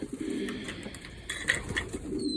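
Pigeons in a pigeon loft give soft, low coos, several overlapping calls close by against a faint background murmur.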